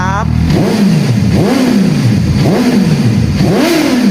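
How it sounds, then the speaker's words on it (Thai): A 2017 Suzuki GSX-S750 motorcycle engine revs repeatedly through a loud exhaust, rising and falling in pitch about four times in a steady rhythm, close by. "เดี๋ยวฟังเสียงท่อใกล้ๆกันบ้าง ขออนุญาตเบิ้งเครื่องนิดนึงนะค"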